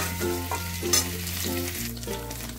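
Paneer fries in butter while being stirred and turned in a pan, a steady close sizzle broken by soft scraping strokes of a spatula, with no one speaking.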